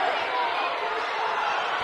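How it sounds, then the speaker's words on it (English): A high school basketball crowd in a gym lets out a loud, sustained groan of dismay after a jump ball call, a dense wash of many voices filling the space. "you can hear the dismay from the South O'Brien crowd"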